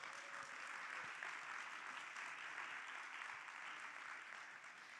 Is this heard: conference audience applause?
yes